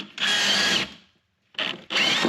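A power drill whirs loudly for under a second, stops, then runs again in two short close bursts, drilling a cable hole for under-cabinet kitchen LED lighting.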